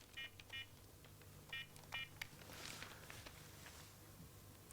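Touch-tone telephone keys being dialed before a call: a handful of short electronic beeps in uneven pairs, close and clear over quiet room hum, with a faint low drone underneath.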